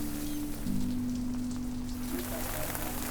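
Heavy rain falls steadily at an outdoor wedding at East Lake Ranch, California, a dense even patter on surfaces close by, with a low tonal hum running underneath.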